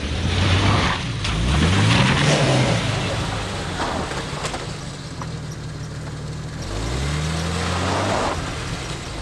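A Jeep engine revs and labors while climbing a dirt trail hill, rising and falling in surges, fairly close and continuous with no speech.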